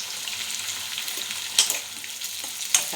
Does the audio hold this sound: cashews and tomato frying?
yes